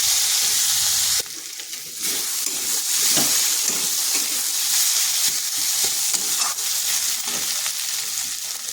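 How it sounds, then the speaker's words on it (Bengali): Cauliflower frying with spices in a pan, a loud, continuous hiss and sizzle with repeated stirring scrapes and clatters of a spoon throughout. "বেশ কিছুক্ষণ মশলার সাথে এটাকে একটু মিশিয়ে নেব।"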